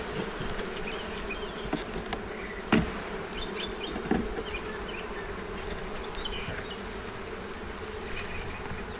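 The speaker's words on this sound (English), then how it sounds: "See if we can't move some of these bees off this front." Honeybees drone in a close, continuous buzz during a beehive inspection, holding steady throughout with a few faint knocks of handling underneath.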